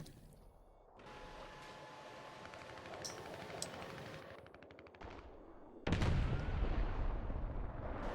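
A 120 mm tank cannon fires at a house in a video game amid rapid, dense gunfire and combat noise, ending in a loud, heavy blast that rumbles on to the end.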